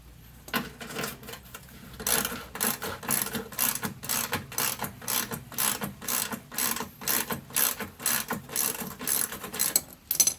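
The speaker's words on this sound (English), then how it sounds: "that's a 1/2 inch nut. So we're just going to remove that." A hand ratchet cranks a 1/2 inch nut off a bolt on a Craftsman snow thrower, with rapid, evenly repeated clicking bursts close up and loud for most of the stretch.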